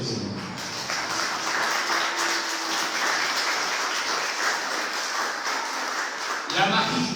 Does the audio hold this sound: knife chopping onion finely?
no